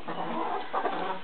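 Laying hens in a winter coop give a short burst of close, clear clucking that rises and falls over about a second, with no voices.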